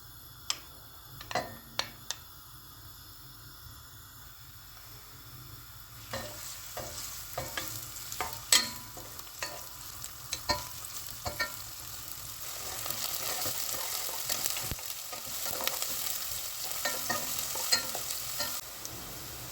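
Diced onions hiss in hot oil, the sizzle swelling partway through, punctuated by sharp clicks and scrapes of a spoon stirring the pan.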